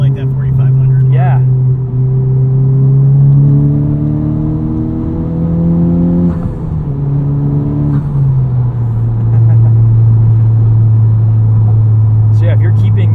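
Modified 2021 Honda Civic Type R exhaust droning steadily from inside the cabin while driving, a loud low hum that rises in pitch with engine speed, dips briefly around a shift, then settles into a steady cruise tone, with talk over it.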